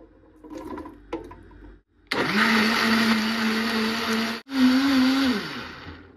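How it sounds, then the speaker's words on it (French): A blender purees soaked cashews with water and lemon for a plant-based yogurt, roaring loudly for about two seconds, cutting out briefly, then whirring again and winding down at the end, with faint kitchen handling noises before it starts. "j'ai mixé ça avec du citron, donc eau, noix de cajou, citron"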